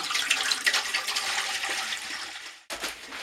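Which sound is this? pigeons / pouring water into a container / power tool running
pouring water into a container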